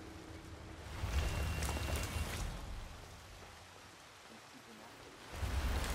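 Rain falling in a Hitman 3 game level, a continuous hissing wash with swells of heavier downpour near the start and end and a quieter stretch in between, with possible faint murmuring underneath.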